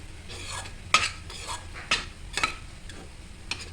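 A cup of rice flour stirred into boiling water in a pot, heard as a steady series of scraping strokes and clinks of a spoon against the metal, close by and with no talking.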